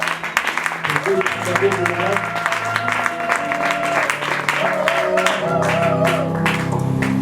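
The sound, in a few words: audience applause and acclamation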